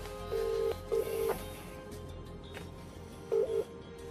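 Keypad tones of a telephone number being dialed, a series of short steady beeps in a few quick clusters separated by pauses, fairly quiet over a low background hum.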